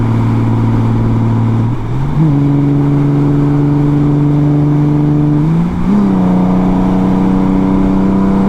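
A Honda Goldwing motorcycle engine pulls steadily and loud, its pitch rising in two distinct upshifts as it accelerates, a continuous droning hum with no voices over it.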